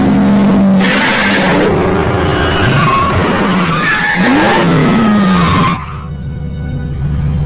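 A car is driven hard around an airport, its engine roaring loudly with tire squeals and revving swells, then cutting to a quieter, distant rumble near the end.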